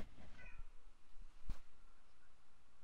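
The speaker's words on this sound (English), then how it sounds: "She just meowed at me." A pet cat gives a short meow close to the microphone indoors, a brief burst standing out over quiet room noise, with a few soft thumps nearby.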